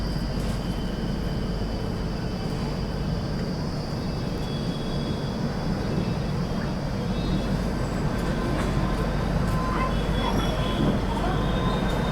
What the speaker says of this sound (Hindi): विभूति एक्सप्रेस दोस्तों डिपार्चर ले चुकी है काशी रेलवे स्टेशन से